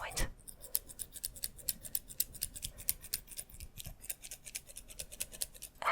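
Dull scissors snip repeatedly in a quick, uneven rhythm, close and crisp in a whispered ASMR setting, with soft breathy voice sounds underneath.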